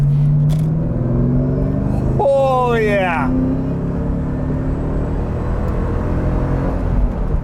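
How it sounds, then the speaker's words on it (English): A Ford Mustang SVT Cobra Terminator driving on a road, its engine giving a steady loud rumble inside the car that rises in a brief sharp rev, with someone talking over it. "All right, driving the Terminator Cobra."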